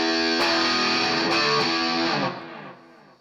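An electric guitar played through a Vox amplifier with distorted tone: a few picked notes and chords ring out loud and close, then decay into a fading tail.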